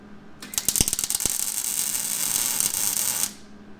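Tack welding joins two ground-down steel pieces, a loud, close crackling arc that starts with a few sharp pops and settles into a steady sizzling hiss for about three seconds before cutting off.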